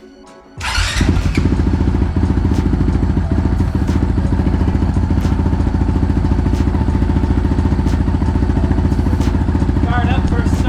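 A Honda CRF450RL dirt bike fitted with a Yoshimura exhaust fires up after a short crank and settles into a loud, close, rapid-pulsing idle. Light throttle blips sit on top, and a voice is faintly audible underneath.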